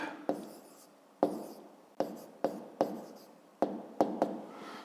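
Numbers being written by hand while working a math exercise, a run of separate scratchy pen or chalk strokes, each starting with a sharp tap and fading, spaced unevenly and heard close with no talking.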